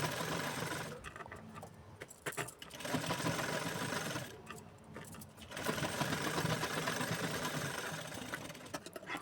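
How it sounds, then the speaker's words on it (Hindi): A sewing machine runs in bursts while stitching a blouse, its fast mechanical whir starting and stopping with short pauses between runs, close and clear with no talking. "और फिर पक्की सिलाई के लिए मैं इसके ऊपर दोबारा सिलाई लगा रही हूँ।"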